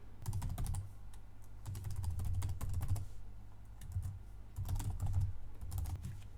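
Bursts of keys clattering on a computer keyboard as login details are typed, close and clear, in several short runs separated by brief pauses, with no voices.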